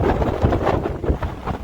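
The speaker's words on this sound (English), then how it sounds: "It is very windy here on Minehead Beach" Strong gusts from Storm Darragh buffet the microphone on Minehead beach, a loud, continuous roaring rumble with no voices.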